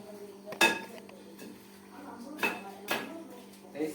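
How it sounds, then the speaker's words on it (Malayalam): A spoon scrapes and clinks against a pot while chicken curry is stirred: a few faint, irregular metallic knocks over a quiet kitchen hum. "ചിക്കൻ നമ്മൾ നന്നായിട്ടൊന്ന് ഇളക്കി ഇടാം"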